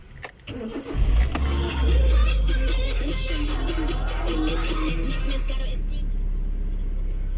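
A Ford Lynx car is started with the key: a short cranking whir, then the engine catches and settles into a steady near idle, with a person speaking over it.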